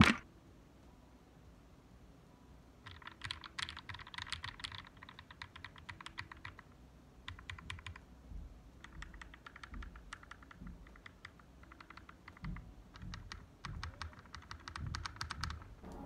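Steady bursts of close, quiet keystrokes on a Kemove K68 hot-swappable mechanical keyboard with stock switches, typed in quick runs with brief pauses between.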